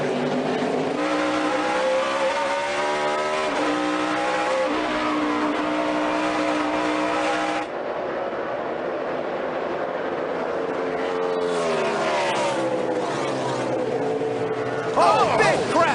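NASCAR stock cars race at Watkins Glen International, their loud engines droning and shifting pitch as they accelerate and pass. Race commentators talk throughout.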